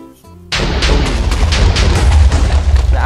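A loud booming explosion in a Roblox game bursts in suddenly after a brief quieter moment, followed by a rolling barrage of blasts and rumbling.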